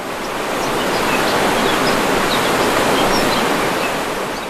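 The waterfall of Fonissa on Kythira rushes in a loud, continuous broadband roar of falling water, steady throughout with no voices.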